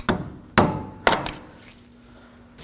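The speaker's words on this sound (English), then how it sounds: "and hit it with a hammer." A hammer strikes a flathead screwdriver to stake the spindle nut on a 2014-2020 Acura MDX 3.5L V6 front axle: three sharp metallic blows about half a second apart, the last with a quick rebound tap, close and clear.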